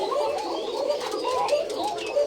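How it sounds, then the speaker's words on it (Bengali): Koka pigeons coo softly and repeatedly nearby, several overlapping throaty calls in a steady, murmuring rhythm. "এই যে এই কোকা কবুতর দেখেন"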